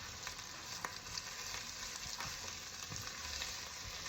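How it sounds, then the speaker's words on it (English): Onions frying in a pan on the hob for a chicken Madras curry, a quiet, continuous sizzle with occasional soft stirring scrapes and no talking. "you might want to start getting a little bit of colour on your onions, just starting to go a little bit golden brown"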